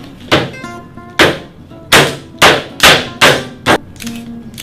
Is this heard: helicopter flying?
no